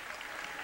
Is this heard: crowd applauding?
yes